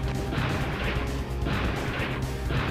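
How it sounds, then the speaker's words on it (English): Heavy cannon fire from the Ultrasaurus's 360-meter L cannon in the mech battle game Zoids: Battle Legends, with two big booming blasts spaced about a second and a half apart over dense, continuous battle noise. "if you're using the Ultrasaurus, I say use this cannon, because it's the best cannon."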